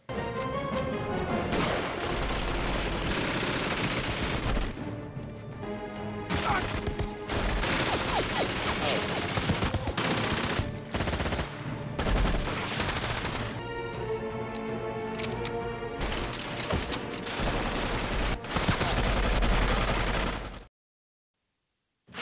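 Automatic gunfire and battle sounds from a World War II war film, with dense bursts of shots and crashes over a loud dramatic score, continuing almost without pause before cutting to silence at the end.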